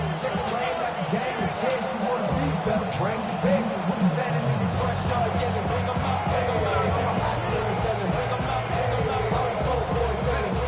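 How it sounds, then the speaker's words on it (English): A football stadium crowd at an NFL game roars steadily and grows louder through a late third-and-long, a dense continuous din with a commentator's voice over it. "This crowd turning up the decibel level."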